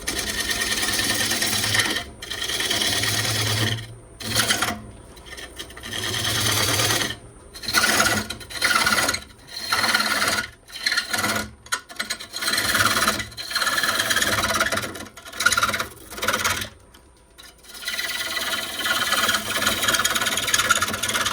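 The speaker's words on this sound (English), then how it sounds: "we're going to go ahead and turn a spot here for the foot" A wooden bowl spins on a lathe while a gouge roughs out the foot, loud scraping and rasping cuts in repeated bursts with short pauses between passes, close up, over a steady motor hum.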